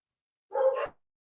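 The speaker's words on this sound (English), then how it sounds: "My fucking dogs are going crazy." A dog gives a single short, clear bark near the microphone, alone against silence.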